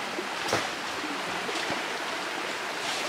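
River water rushes steadily through a streambed where gold is panned in the river, a continuous broadband wash with a couple of brief splashes, no talk.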